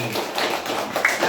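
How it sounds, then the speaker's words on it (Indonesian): Children clap their hands together in a burst at a Ramadan talk show and iftar gathering for orphans, a dense patter of quick overlapping claps that carries on steadily without a break. "tepuk tangan dong adik semua sekali lagi"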